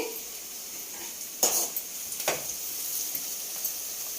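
Chicken frying in a pan for biryani, a low steady sizzle with a few sharp clinks of a utensil against the pan, no talking.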